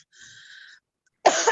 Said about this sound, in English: It's like a stress cough.